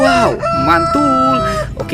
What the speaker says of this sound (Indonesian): ini ada ayam berkokok